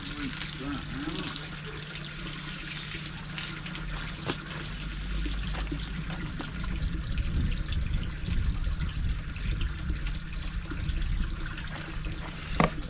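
Water trickling and pouring as a container is rinsed out by a koi pond setup, a steady low wash of running liquid with faint splashes throughout, outdoors with no talking.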